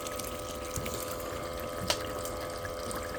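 Water pours steadily over the top of a header box, a continuous splashing rush with a steady pump-like hum beneath and one small knock partway through.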